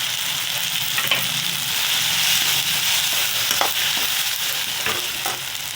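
Ground chilli, coriander and turmeric powders with ground masala sautéing in hot oil in a pan for a Karaikudi brinjal kuzhambu, a steady close sizzle with a few sharper crackles and stirring scrapes, no talk.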